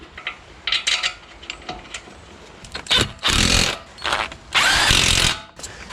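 A power tool runs in short bursts and then two longer loud runs, tightening the front brake caliper bolts on a 1992–2002 Toyota Camry. The sound is close and harsh, with clanks and handling noise between the bursts.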